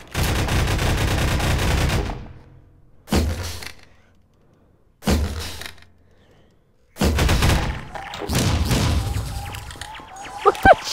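Gunfire in Garry's Mod, several bursts of rapid shots separated by short silences, loud and close, with a faint voice near the end.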